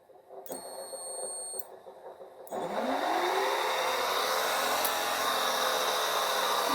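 An electric motor on a free-energy test bench is switched to continuous power. A few beeping tones come first, then a whirring spin-up settles into a steady, loud hum close by.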